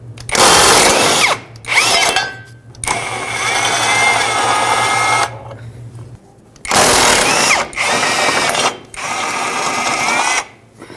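Bolts coming off the front sway bar bracket of a 2012-2017 Toyota Camry under a power tool, loud whirring bursts separated by short pauses, with one long steady run in the middle.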